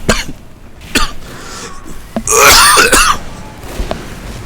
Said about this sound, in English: Sorry about that, my cough is still present for the